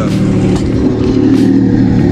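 A Yamaha WaveRunner jet ski engine idles steadily during a freshwater flush, a loud continuous low rumble with no breaks.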